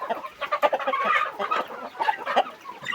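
Fighting roosters cluck busily and continuously, overlapping rapid calls from several birds close by, with no talking.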